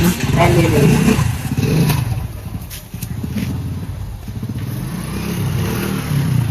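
A motorcycle engine idling and revving close by, loud and rumbling throughout, with voices talking over it.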